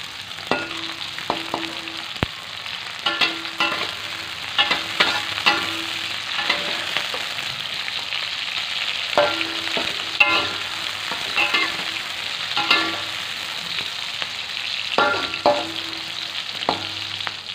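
Spices sautéing in a pan until fragrant make a continuous crackling sizzle, while a utensil scrapes and taps against the pan in repeated bursts throughout, with no talking.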